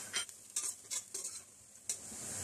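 Whole spices, cinnamon, cloves, black pepper and cumin, frying in hot oil with a quiet sizzle and several quick spoon scrapes and clatters against the pot. No voices.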